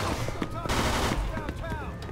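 Rapid bursts of Thompson submachine gun fire in the game Mafia 2, loud and close, mixed with bright clatter and a voice speaking over the shots.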